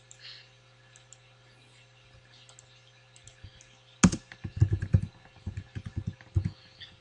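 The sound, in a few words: typing text on a computer keyboard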